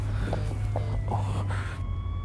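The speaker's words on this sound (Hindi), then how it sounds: "एम्बुलेंस वाले भैया कुत्ते की तरह भगा रहे हैं" An ambulance siren wails continuously under steady road noise, heard from inside a moving vehicle, fairly loud and holding throughout the clip.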